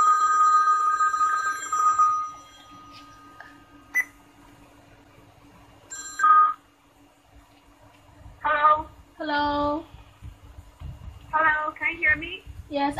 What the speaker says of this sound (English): And you also can dialing the hands-free phone call and answer it.